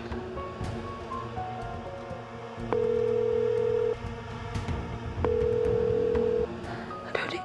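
An unanswered phone call rings out as two long, steady ringback tones separated by a pause, heard through the handset over a faint background murmur.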